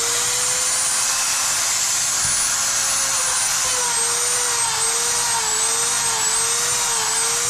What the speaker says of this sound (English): As you see, this sander is adjustable, so I can adjust it to go slow, like so.